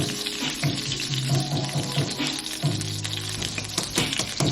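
A pot roast going into a pot of liquid turned up to high heat gives a steady, close sizzle and bubbling frying noise with faint clinks and stirring, and no voices.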